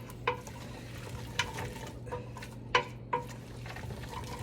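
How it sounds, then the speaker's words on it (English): A spoon stirs sausage and kale soup with potatoes in a pot, giving several sharp clinks against the pot at an irregular pace over a low steady background hum. "Stirring around."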